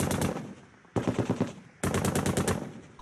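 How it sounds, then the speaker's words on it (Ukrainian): Bursts of machine gun fire ring out along a street in Sloviansk during armed clashes, three loud rapid strings of shots separated by brief pauses, with no voices present. "Страшно звідусіль чути постріли."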